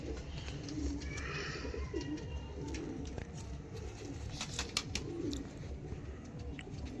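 Pigeons coo softly at a pigeon sale, low repeated calls set against a steady background hum, faint and somewhat distant, with occasional sharper clicks and rustles.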